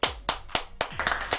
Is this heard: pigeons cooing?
no